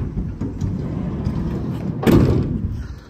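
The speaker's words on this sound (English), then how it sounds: "So the side loading door does actually open out." The side loading door of a 2024 Nissan Interstar van rolling open, a rumbling slide that ends in a sharp clunk as it locks in place, close and clear with no talk.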